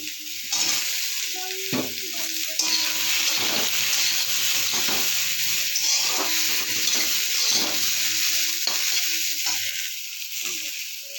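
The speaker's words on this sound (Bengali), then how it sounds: "কলা, বিনস, আলু, পেঁয়াজ দিয়ে ভাজা ভাজা করছি।" Green banana, beans, potatoes and onions sizzling in a hot pan, a loud steady crackle and hiss with occasional scraping stirs, close by and uninterrupted.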